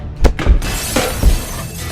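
Glass shatters all around a house in a rapid burst of three or four sharp crashes within two seconds, bright and loud with scattering tinkle trailing between impacts.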